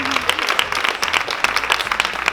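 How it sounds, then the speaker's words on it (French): An audience at a casual women's gathering gives a brief, lively round of applause, dense, overlapping clapping near the listener for a couple of seconds. "On n'hésite pas à l'applaudir."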